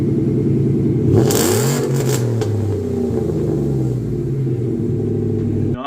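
A car engine revs loudly through its exhaust, close up. The rumble climbs in pitch, then eases back to a heavy, steady idle-like drone, with a brief rattly burst near the start.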